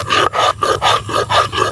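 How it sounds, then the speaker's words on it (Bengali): Ginger and garlic are ground together on a stone, making a quick rhythmic series of about seven rasping back-and-forth strokes, close and alone, in a village kitchen. "এখন বেটে নিব আদা এবং রসুন। এটা এখন একসঙ্গে বেটে নিব।"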